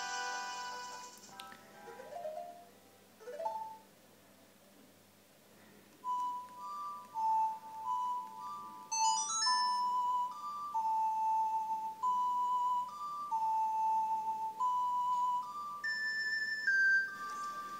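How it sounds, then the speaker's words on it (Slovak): A short ocarina-like melody from a Nintendo 3DS game, clear sustained whistly notes stepping up and down in a simple tune, preceded by a few faint chimes and clinks, played alone without talk. "A na záver prezentácie krátkej vám zahrajem niečo na Ocarine"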